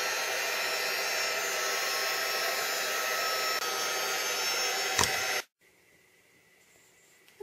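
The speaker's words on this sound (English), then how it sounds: "Okay, and we'll heat that again." A heat tool blows steadily to dry shimmer paint on framed art, a loud, close, continuous whir that runs for about five seconds and then cuts off abruptly, leaving near silence.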